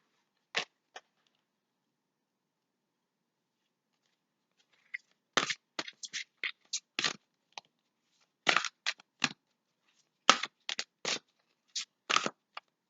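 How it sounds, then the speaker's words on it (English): Angel Tarot cards are shuffled and drawn, giving crisp, close riffling snaps in quick irregular bursts. Two isolated flicks come early, then a pause, then a long run of rapid card slaps. "I'm going to pull out a couple cards now from the Angel Tarot"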